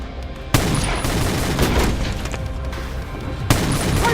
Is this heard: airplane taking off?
no